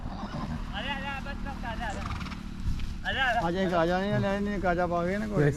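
A horse whinnies and neighs repeatedly at close range, with hoof clip-clops and crowd chatter during a motorbike trip toward Ladakh; the calls grow louder and longer in the second half.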